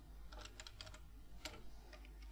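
A computer keyboard typed on in bursts of quick, quiet key clicks, a short run of taps, a pause, then a few more strokes, close and faint against a low background hum.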